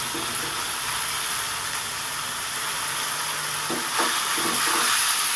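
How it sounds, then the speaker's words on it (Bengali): A loud, steady hiss of hot oil fills the clip as ridge gourd is stirred in a pan, with a few scraping knocks toward the end. "দেখুন ভালো করে আমি নেড়ে চেড়ে ভেজে নিচ্ছি"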